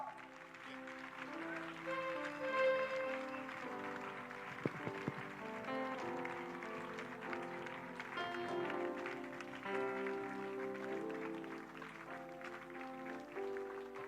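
A congregation claps together during a lively worship service in a church in Abidjan, steady rhythmic applause blending with music and singing throughout.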